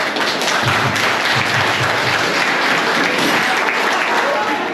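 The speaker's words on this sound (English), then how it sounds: "just give these lads a round of applause, please" An audience at the Wombwell Main Football Club awards night gives a loud, sustained round of applause filling the room throughout, with a voice audible beneath the clapping.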